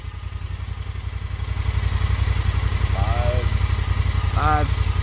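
A Honda Pioneer 1000 UTV idles through a Hess tune muffler, producing a close, steady low pulsing rumble that grows slightly louder partway through, with brief voices heard over it.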